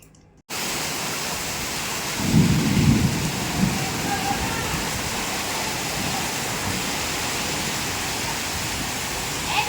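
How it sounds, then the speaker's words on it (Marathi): Heavy rain pours down steadily and loudly after a sudden start, with a low rumble of thunder rolling through partway and the downpour continuing unbroken throughout. "जसं तुम्ही आता पाहिलं जोरात पाऊस चालू आहे, जोरात."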